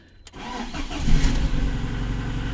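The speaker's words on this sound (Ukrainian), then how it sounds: "Будемо пробувати перший пуск." A VAZ 2109 1.6 engine cranks and catches on its first start after an oil pump rebuild, then settles into a steady, loud idle with a low rumbling throb.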